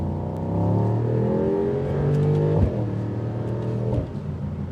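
A 2025 Mercedes-AMG GT63 coupe engine in sport mode revs up loudly and close, pitch climbing through rising sweeps, with sharp shift breaks and a crackle before settling again.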